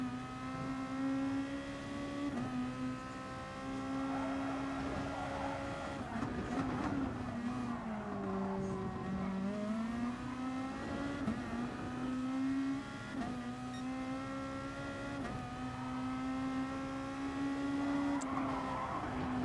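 Race car engines in Gran Turismo Sport, with Nissan Skylines racing in close battle, drone with steady high revs, shifting pitch as cars brake and accelerate through corners, and the sound stays continuous and moderately loud.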